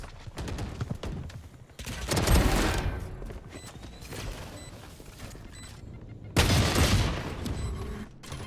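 Rapid gunfire from the tactical shooter Valorant during a competitive esports match, with bursts of shots and a louder volley midway and near the end, over ongoing game noise and casting talk.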